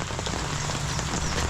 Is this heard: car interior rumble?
no